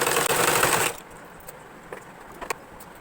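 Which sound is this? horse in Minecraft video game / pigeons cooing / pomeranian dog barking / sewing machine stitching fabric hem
sewing machine stitching fabric hem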